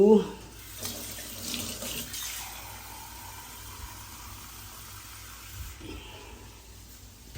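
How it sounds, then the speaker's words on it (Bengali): Water poured from a tap into a cooking pot holding eggs and potatoes in a home kitchen, a soft steady splashing rush at moderate distance lasting several seconds. "দিয়ে দিলাম জল"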